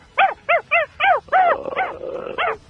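A dog barks in a quick series of about seven sharp, close barks, with a low growling rumble between the later ones.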